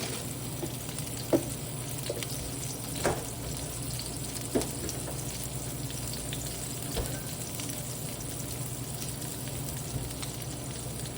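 Salmon cakes fry in oil in a pan over medium-high heat, giving a steady, even sizzle throughout with a few soft clinks and taps on top and no talking.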